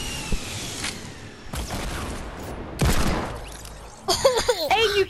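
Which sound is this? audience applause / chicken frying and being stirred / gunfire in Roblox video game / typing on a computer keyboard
gunfire in Roblox video game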